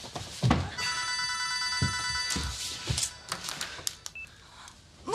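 A telephone bell rings in a Japanese drama scene, a bright trilling burst lasting about a second and a half amid soft rustles and small clicks, fairly close.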